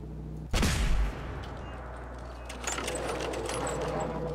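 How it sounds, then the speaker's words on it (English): Two gunshots in the game Fallout 4. A heavy booming blast comes early with a rumbling tail, then a second, duller shot follows among clattering game noise, with no talking. "That was a waste of two shots"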